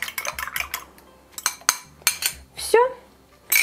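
Minced meat mixed with eggs in a bowl gives a series of clinking, scraping strokes from a utensil against the dish, in irregular close bursts with pauses between.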